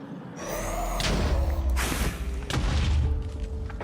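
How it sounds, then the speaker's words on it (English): Explosions in the Minecraft modpack Stoneblock during wither farming: loud booming blasts and thuds overlapping mechanical noise, with several broad bursts in quick succession. "he fully hit me with that explosion"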